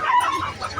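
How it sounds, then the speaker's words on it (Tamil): Soft, short clucking from a native country rooster close by at a poultry market in Valliyoor, Tirunelveli, a few low throaty notes in under a second, with faint background noise. "நல்ல சேவல், நாட்டு சேவல், பியூர் சேவல்."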